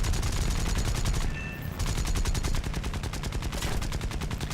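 Cannon and machine-gun fire from aircraft in the War Thunder combat game: rapid, continuous bursts of loud gunfire that stop briefly, then resume in steady rattling volleys.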